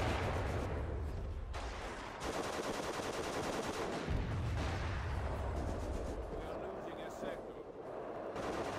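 Rapid bursts of 20mm half-track cannon fire in the Company of Heroes video game, dense repeated shots over loud battle noise, with a voice talking over part of it.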